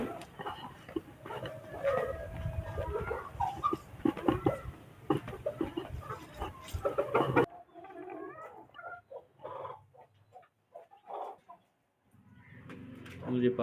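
Chickens cluck around a backyard being fed millet, soft scattered clucks close by under ambient rustling, the sound dropping out and returning partway through.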